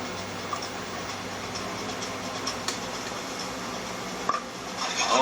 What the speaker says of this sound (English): we're going to start on searing up the shallots